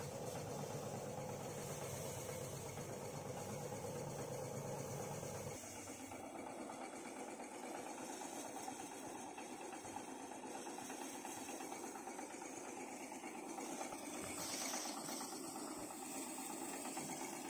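Village paddy threshing in progress, a steady low mechanical drone with a fast rattling whir, faint and distant, continuing evenly with no voices.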